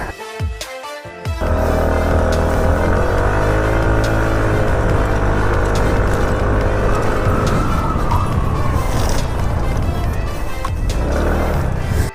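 A Motorstar Easy Ride 150P motorcycle with an upgraded CVT on a test ride: after a few brief knocks, its engine roars loud and close, holding a sustained drone that climbs in pitch for about ten seconds.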